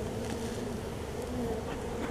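Bees swarm around a hive built inside a bird house, giving a steady close drone of buzzing with no talk.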